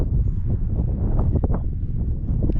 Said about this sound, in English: Wonder if y'all can hear the wind.